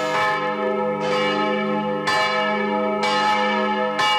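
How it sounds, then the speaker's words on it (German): Church bells toll in a slow, even rhythm, with about four loud, ringing strikes whose rich tones sustain and overlap between hits. "Die Glocken rufen uns in die nächste Region."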